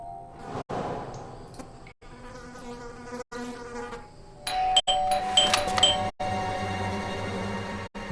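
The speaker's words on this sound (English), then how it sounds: "I thought I should use the doorbell, so I wouldn't startle you." A doorbell rings in the Blues and Bullets video game, a few bright chiming tones sounding mid-scene over a low ambient hum and buzzing background.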